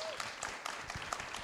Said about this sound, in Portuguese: Né, acho que aplausos,